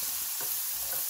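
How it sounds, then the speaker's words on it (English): Chopped onions fry in hot oil in a pan for egg curry, giving a brief, steady sizzle with a light stir or scrape in the middle. "we're gonna golden fry the onions"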